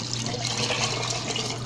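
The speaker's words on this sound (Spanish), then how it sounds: "al mismo vaso de la licuadora estaré agregando agua para limpiarlo y depositarlo también aquí en nuestra cazuelita" Water is poured from a blender jar into a small clay pot while cooking Sinaloa-style shrimp meatballs, a steady splashing, gurgling stream that runs continuously at close range with no talk.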